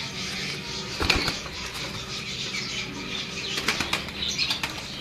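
Released pigeons, including blue birds, beat their wings in sharp flurries of flapping, one near the start and more clustered toward the end, close and fairly loud.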